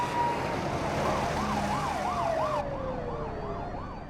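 Ambulance and police sirens in a film wail together, a rapidly warbling tone over a slower falling wail, loud and continuous over a rushing background, with no talk.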